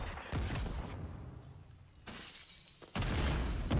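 Glass shatters in a first-person shooter match, sharp breaking crashes arriving in several bursts amid dense, noisy game sound with no talk.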